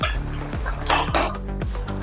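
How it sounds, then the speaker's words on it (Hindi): A spoon stirs masoor dal pulao in a cooking pot, giving repeated metallic scrapes and clinks against the pot in a steady rhythm, up close and with no talking. "एक बार और चीज को चम्मच से चलाएंगे इसे।"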